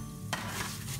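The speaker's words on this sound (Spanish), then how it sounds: "Ahora vamos a dorar el fideo." Fideo noodles browning in a little oil while being stirred, a soft steady sizzle with a scrape of the spoon partway through, close and quiet, with no voices.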